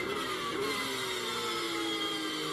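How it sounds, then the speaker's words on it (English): Porsche GT race car engine winding out at high revs while chasing a Ferrari at COTA during a Blancpain GT World Challenge America race, a sustained, strained engine whine heard from a distance, steady and moderately faint. "Just winding that Porsche engine out, chasing the Ferrari."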